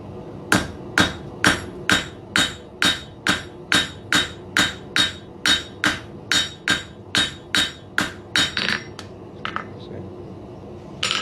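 A hammer strikes sharply and rhythmically at a steady pace on hot steel over an anvil edge, forging the ears of a bulldog hook, with about twenty ringing blows in close succession.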